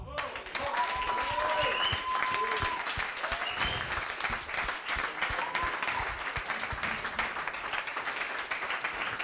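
An audience at a televised finale dinner event in Chambéry applauds the technical teams, a dense sustained round of clapping with a few cheers and voices mixed in, filling the room throughout.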